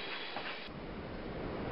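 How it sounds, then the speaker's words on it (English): A passenger train runs steadily along rails overnight, a continuous close rumble of wheels and carriage noise filling the whole stretch without a break or voice. "The train ran all through the night."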